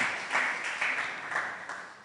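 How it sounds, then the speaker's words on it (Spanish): Congregation in a church service clapping for the Lord, a dense wash of hand claps with rhythmic swells, moderately loud and steady over about two seconds. "Ahora, denle fuertes palmas al Señor."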